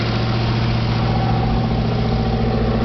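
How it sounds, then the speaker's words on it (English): Deep, throaty exhaust of a 1928 Ford coupe hot rod idling close and loud, a constant rough rumble with no voices. "you can hear the exhaust"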